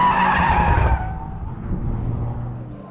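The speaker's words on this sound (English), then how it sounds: "you flick it, it instantly goes into a mild four-wheel slide" A 2024 Toyota GR Corolla or GR86 on a race track breaks into a mild four-wheel slide, tires skidding loudly with engine roar for about a second before fading to a steadier engine drone.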